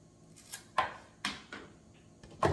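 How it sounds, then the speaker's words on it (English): Scissors snipping through a potted plant's stem while trimming the bottom off, a few crisp separate cuts spaced about half a second apart, close and fairly quiet. "Actually, this one I'm gonna leave and I'm gonna cut the bottom off."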